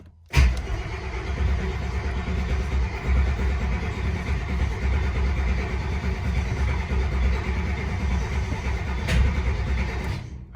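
A Mercedes 300SEL 6.3 engine cranks and catches with a sharp start, then runs in a steady, loud, rumbling idle close by for about ten seconds, with a brief rev near the end.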